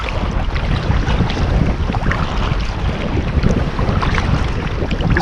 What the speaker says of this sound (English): And it's pretty windy, got the wind and the tide against us.